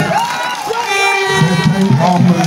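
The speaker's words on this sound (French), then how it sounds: "Applaudissez-le." A crowd at a presidential campaign rally in the Noya department cheers and calls out, a short burst of overlapping voices and whoops rising loud and close.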